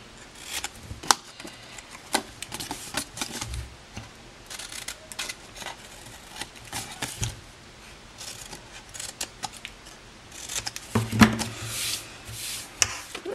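Paper gift box flaps being notched with scissors: a series of crisp, close snips and paper rustles in uneven bursts, with no talk.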